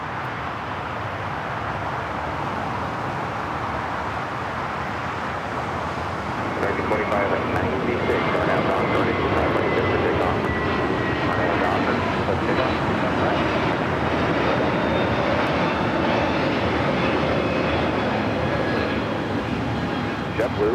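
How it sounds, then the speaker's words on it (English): A JetBlue Airbus A321neo takes off from LAX, a steady distant jet roar that grows louder and fuller partway through and holds to the end, heard outdoors with no talk. "Speaking of JetBlue, that's our next takeoff, heading to Fort Lauderdale, flight 100."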